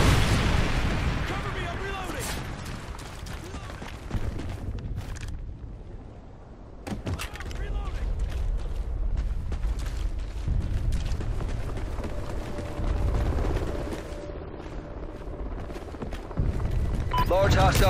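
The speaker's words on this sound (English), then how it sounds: "Friendly Trinity rocket inbound" Trinity rocket strikes in Call of Duty: Ghosts Squads Safeguard mode land as repeated heavy booming explosions amid gunfire, with in-game voices talking over the loud, dense battle noise.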